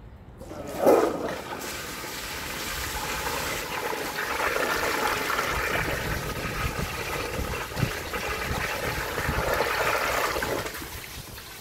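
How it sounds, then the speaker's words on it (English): A 1983 American Standard Baby Devoro toilet flushes loudly and close, a sharp onset rushing into a steady whooshing swirl of water that carries on for about ten seconds before easing into a trickle. "let's give it a flush and see how it does"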